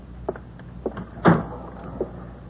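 A door thuds shut with a solid knock, surrounded by a few lighter clicks and taps of handling in a quiet room.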